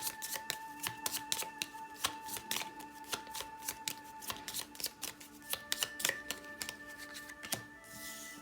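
Tarot cards are pulled from a stacked deck and handled, giving a steady run of crisp snaps and riffling flicks close by, with faint tonal music playing underneath throughout.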